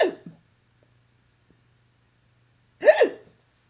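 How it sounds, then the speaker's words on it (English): Two sharp hiccups from a woman, close and isolated, one at the very start and a second louder, voiced one a few seconds later, with silence between. "Just a minute, I got the hiccups."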